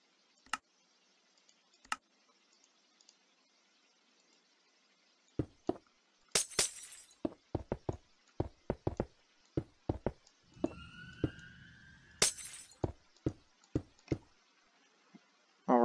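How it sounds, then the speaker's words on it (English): Glass blocks being placed one by one in Minecraft, sharp isolated clicks that start sparse and then come in quicker bursts, with a couple of brighter glassy clinks and a short swooshing sound in the middle, otherwise quiet. "Now we'll want to cover that area in glass."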